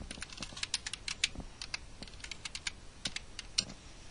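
Rapid keystrokes on a computer keyboard as a file name is typed, an irregular run of close, crisp clicks with short pauses, alone in a quiet room.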